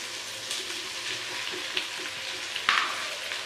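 Boiled pasta gets mixed into a chicken sauce in a pan, a steady hiss of frying with a few soft stirring scrapes and one sharper clatter near the end.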